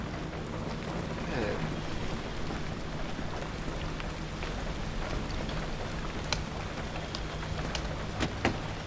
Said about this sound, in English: Well, it's dark and rainy out.